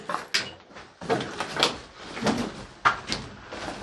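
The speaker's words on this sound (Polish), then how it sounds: "I co, mamy tu drzwi schronowe." Heavy metal doors in an old railway air-raid shelter bang and scrape several times in an echoing concrete space, with footsteps and handling noises between the knocks.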